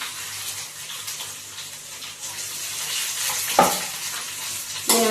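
Fenugreek seeds and sliced small shallots frying in oil for a tamarind curry give a steady, close sizzle with a couple of sharper stirring knocks.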